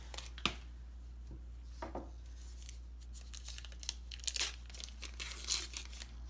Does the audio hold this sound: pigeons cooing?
no